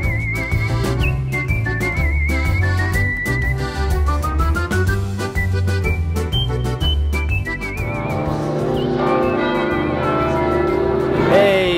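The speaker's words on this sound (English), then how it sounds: "Sorry for the bells, it is what it is." Church bells ring out in Florence, Italy, near the Piazza del Duomo, their loud sustained pealing overlapping in a dense wash of tones that carries on steadily throughout.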